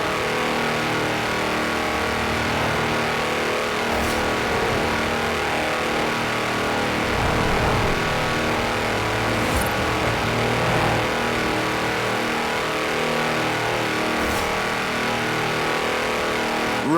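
A tractor on 4-inch mud tyres in Forza Horizon 4 races flat out, its engine droning loud and steady with slight rises in pitch as it holds high revs, close and continuous with no talking.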